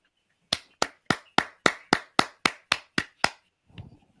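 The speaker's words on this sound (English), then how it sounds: "I got to put the mic down to clap." Eleven sharp hand claps in a steady, evenly spaced rhythm, close and crisp, followed by a brief faint rustle.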